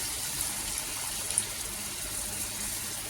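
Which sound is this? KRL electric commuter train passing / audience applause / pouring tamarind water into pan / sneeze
pouring tamarind water into pan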